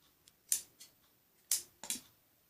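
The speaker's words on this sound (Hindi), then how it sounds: "हमें छोटे छोटे पीस प्लास्टिक के 2 छोटे छोटे पीस काटने होते हैं।" Scissors snip small two-inch plastic pieces for a child's top, giving four or five sharp, crisp cuts in an irregular rhythm, close and fairly quiet with no talking.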